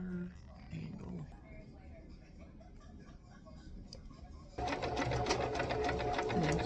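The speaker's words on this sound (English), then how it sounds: "now I am just sewing down the center of the ribbon" A sewing machine stitches down the center of a ribbon on a thrifted t-shirt. Talk comes first, then the motor starts up loud and close, running as a steady, rapid whir until the end.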